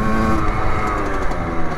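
A Rieju MRT Pro motorcycle pulls hard under acceleration, its engine note loud and close with a rising, buzzy tone over a short burst.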